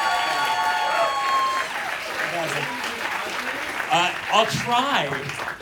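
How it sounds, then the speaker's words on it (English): A live comedy show audience applauds in a loud, sustained wash of clapping and cheering, while voices talk over it near the end. "clap it up"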